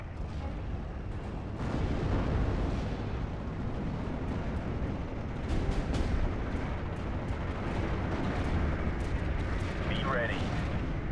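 Artillery barrages and gunfire on a Normandy 1944 battlefield with 101st Airborne troops, continuous deep booming and crackling blasts rolling over one another, with several sharper bursts and a voice shouting faintly in the mix.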